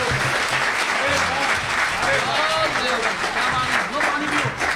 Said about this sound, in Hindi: मेरा कविता पाठ अगर अच्छा लगा हो तो एक बार मुझे भी तालियां बजाकर बताइए सर